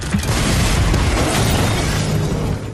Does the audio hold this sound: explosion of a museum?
yes